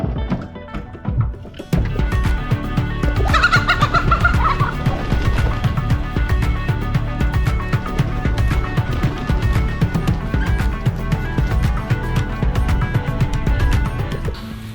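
Poultry gobbling and clucking loudly and continuously in a coop, a dense chorus of overlapping calls.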